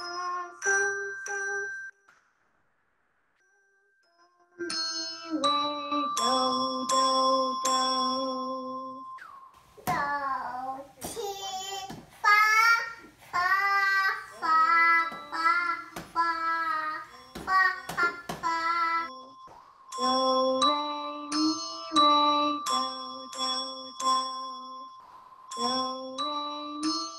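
Desk bells rung in a music class, a sequence of clear, bright ringing notes played in a stepwise tune, broken by a stretch where children's voices sing along, then more struck bell tones.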